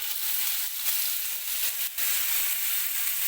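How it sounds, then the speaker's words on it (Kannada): Onions frying in a little oil over a medium flame for veg fried rice, giving a steady, close broadband sizzle with no talk. "ಮೀಡಿಯಂ ಫ್ಲೇಮಲ್ಲಿ ಚೆನ್ನಾಗಿ ಫ್ರೈ ಮಾಡ್ಕೊಳ್ಳಿ"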